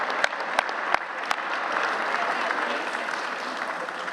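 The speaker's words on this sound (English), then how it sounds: "Give it a round of applause for that." A crowd of around 300 at an evening gathering honoring Jewish women partisans breaks into sustained applause, a dense even roar of clapping with a few sharp nearby claps standing out early on.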